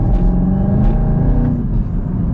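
A manual Chevrolet Camaro ZL1 accelerates, its engine a loud, close, deep rumble with rising harmonic tone and brief bursts, heard alone for a couple of seconds.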